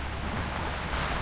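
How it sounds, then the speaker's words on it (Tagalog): Nonstop rain at a campsite in Mauban, Quezon, a steady close hiss of downpour without breaks, no voices. "walang tigil ang ulan."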